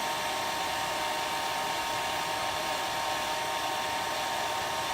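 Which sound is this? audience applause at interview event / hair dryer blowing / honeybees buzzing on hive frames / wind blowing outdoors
hair dryer blowing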